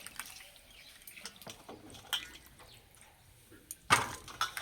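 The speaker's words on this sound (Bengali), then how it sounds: "এভাবে পরিষ্কার করে ধুয়ে নেব।" New potatoes are rinsed by hand in water, with soft drips, trickles and light splashes close by, ending in a louder splash and a few drips, no talking.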